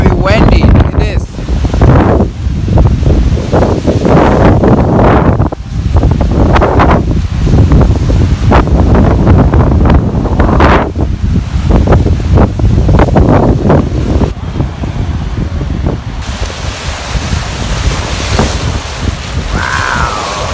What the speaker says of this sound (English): Wow, it's very windy.